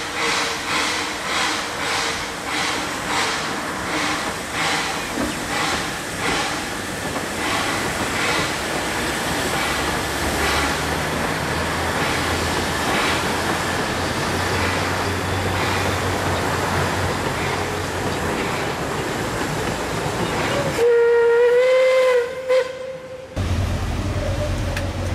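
Puffing Billy steam train rumbling along the rails in a steady loud wash, ending with a sustained whistle blast near the end.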